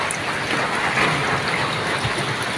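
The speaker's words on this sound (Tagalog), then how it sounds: "Umuulan dito." Steady rain falls outdoors in a rural Philippine setting, a dense continuous hiss of drops spread evenly through the short stretch with no break.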